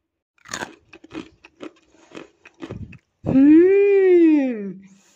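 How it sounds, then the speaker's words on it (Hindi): Several sharp crunching bites of crispy marunda, a sweet snack, in quick succession, close and crisp, followed by a long rising-and-falling vocal moan of enjoyment. "आपको आवाज़ से भी अंदाज़ा हो रहा है ये कितनी क्रिस्पी बनी है।"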